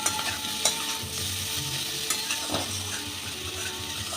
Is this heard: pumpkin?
yes